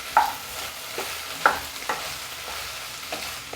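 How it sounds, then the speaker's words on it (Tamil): Chopped tomatoes sautéing in a pan with a few sharp stirs of a spoon scraping the pan, heard up close over a soft, steady sizzle, with no one talking. "இப்போ கொஞ்சம் வதங்கட்டு தக்காளி பழம்"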